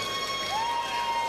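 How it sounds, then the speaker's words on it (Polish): A crowd in an arena hall for a kickboxing fight event cheers and applauds in a brief, steady, fairly loud roar with a whistle-like tone rising through it. "Duże brawa od publiczności zgromadzonej w hali Wisły przy ulicy Reymonta"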